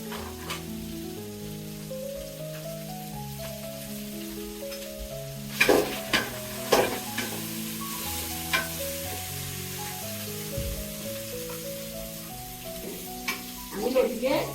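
Kochur loti (taro stolons) frying in a pan with salt and turmeric give a continuous loud sizzle, broken by occasional clinks and scrapes of a spoon stirring against the pot.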